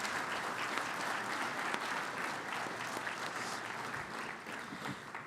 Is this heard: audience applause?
yes